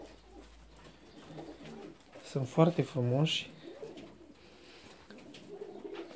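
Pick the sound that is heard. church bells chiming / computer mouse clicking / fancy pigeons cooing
fancy pigeons cooing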